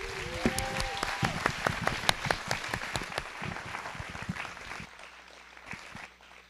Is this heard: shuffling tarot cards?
no